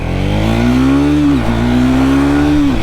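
A Triumph Speed 400 motorcycle accelerates hard, its engine note climbing steadily through one gear, dipping at a quick shift, then rising again, loud and close with no talk.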